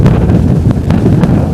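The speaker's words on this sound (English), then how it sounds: "it's got a bit more windy now" Strong wind on the coast buffets the microphone in loud, low rumbling gusts with brief crackling bursts, filling the whole short stretch without any voices.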